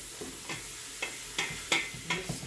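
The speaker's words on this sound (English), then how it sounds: "I'm just stirring this meat up." A spoon scrapes and knocks rhythmically in an old pot of sizzling meat for homemade chili, about six quick stirring strokes close up over a soft frying hiss.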